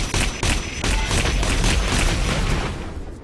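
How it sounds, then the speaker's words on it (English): Loud, rapid bursts of gunfire in the video game Heavy Gear Assault, overlapping shots and booms in a dense barrage that fades slightly at the end. "The gunfire was really loud."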